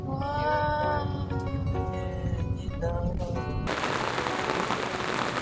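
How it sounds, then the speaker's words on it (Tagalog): Rain falling in Baguio, a steady broadband hiss that takes over in the second half after a stretch of voices and harmonic, bleat-like sounds, continuing loud and even to the end. "It's raining, guys."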